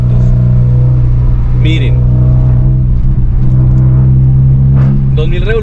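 A car with a six-speed manual gearbox, in fourth gear at about 2000 rpm and roughly 52 km/h, hums with a loud, steady engine drone from inside the cabin while someone talks over it.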